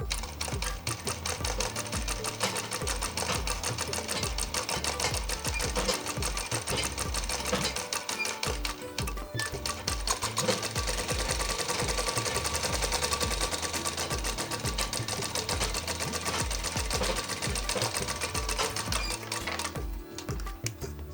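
A tailoring sewing machine double-stitches a kurti sleeve along a round seam, running loud and continuous with a dense, rapid chatter throughout.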